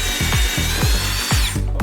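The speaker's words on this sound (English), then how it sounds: "Drilling holes in wood." A Coofix CF-SID009 cordless lithium drill bores into wood, its high whine punctuated by a rhythmic series of ratcheting knocks, loud and close, before the motor winds down at the end.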